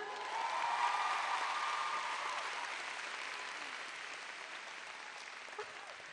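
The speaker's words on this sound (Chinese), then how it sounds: "掌声鼓励一下。" An audience at the Golden Bell Awards ceremony claps in a broad, even wash that swells early, then gradually fades, heard fairly faint and at a distance.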